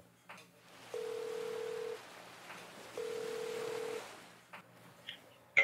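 Two long, even telephone ringback tones sound at a steady interval while a call to a friend connects, faint and close, with soft background noise and a brief blip at the end.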